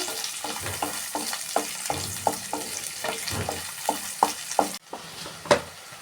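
Chopped onions fry in hot oil with bay leaves for a potato curry, a steady sizzle punctuated by repeated spoon-stirring scrapes and clacks, close and moderately loud, with no talking.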